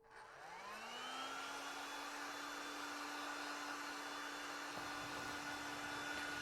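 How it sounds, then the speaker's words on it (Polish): Heat gun blowing hot air to dry inline skate bearings: a steady high whine that spins up over the first second, then holds a constant airy roar, fairly quiet and alone. "żeby przyspieszyć cały proces suszenia, ja sobie użyję nagrzewnicy,"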